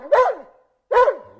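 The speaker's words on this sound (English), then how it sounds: "The password is woof woof." Two separate dog barks, short and fairly close, with a clear pause between them, heard alone with no talking.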